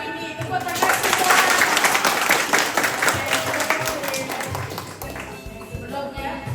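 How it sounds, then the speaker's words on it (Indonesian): A crowd of church members applauds at a new house blessing: dense, steady clapping that swells early and runs for several seconds, mixed with voices and cheering before it thins toward the end. "Tepuk tangan semua"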